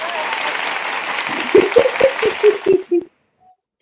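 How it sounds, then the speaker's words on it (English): Brief applause-like wash of sound that fades under a few louder nearby thuds and voices, cutting off abruptly after about three seconds. "It sounds like oh, it's applause."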